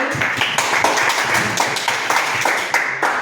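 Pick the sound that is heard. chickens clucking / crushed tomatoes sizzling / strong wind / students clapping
students clapping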